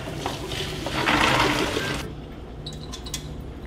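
Bean soaking water is poured off, splashing and gurgling loudly for about two seconds, then trailing off into faint drips and small clinks.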